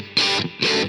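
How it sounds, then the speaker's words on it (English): Two short distorted electric guitar chords from a tube amp through a Two Notes Captor X load box with wide stereo reverb, each bright and loud, cut off cleanly with a brief tail. "And now the reverb is very left and right."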